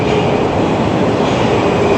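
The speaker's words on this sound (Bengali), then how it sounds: "এই ট্রেন যেটা আসছে এটাই যাবে কমসোমোলস্কায়া।" A local train pulling into a Moscow metro station, a loud, close, continuous roar of rolling wheels and rail noise with no voices.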